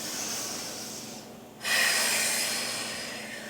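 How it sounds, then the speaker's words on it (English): Deep breathing during a seated yoga twist, a long steady hiss of breath that fades, breaks off briefly, then resumes as a stronger, close inhale or exhale, with no talking. "Keep deepening that breath."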